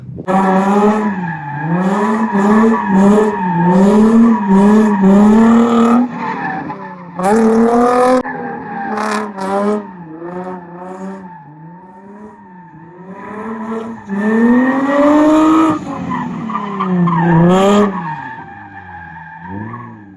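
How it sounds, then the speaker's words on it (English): A 350Z drifts around a built drift track, tires squealing loudly and continuously with warbling pitch as the engine revs hard through corners and a crossover section, close and sustained. "we're going to power out of this corner, straight through the crossover section, back onto the loop, and back around"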